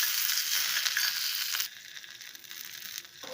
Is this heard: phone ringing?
no